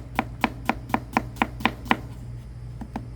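A knife cuts through a peeled onion on a board, making about eight crisp, evenly spaced chops close by, followed by a few fainter taps, with a steady low hum underneath.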